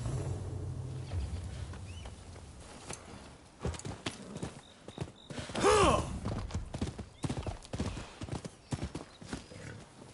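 Horse hooves clip-clop and a horse whinnies loudly midway in the video game Rise of the Ronin, with steady hoofbeats throughout and no speech.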